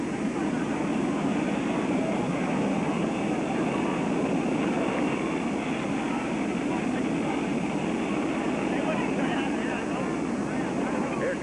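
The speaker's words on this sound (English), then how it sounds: "Here comes the jet." A big jet carrying the president and the First Lady approaches and lands in Dallas, a steady, loud roar of engine noise filling the whole stretch with no break.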